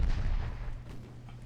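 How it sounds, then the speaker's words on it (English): A torpedo strikes a warship in the naval strategy game Ultimate Admiral Dreadnoughts, a deep booming explosion with a rumbling low-end decay, heard alone with no talk. "Good torpedo hit."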